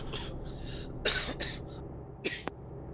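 A few short, breathy coughs and throat-clearing bursts at close range, separated by pauses, with a small click near the end.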